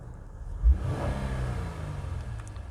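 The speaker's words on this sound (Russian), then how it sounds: "послушайте этот приятный V6" A Honda Legend's V6 engine idles and revs gently, a smooth low hum that swells briefly and then holds steady, heard from inside the car at moderate volume.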